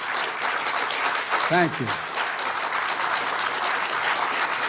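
Continuous audience applause at a cabinet and staff gathering, steady dense clapping throughout, with someone briefly speaking over it midway.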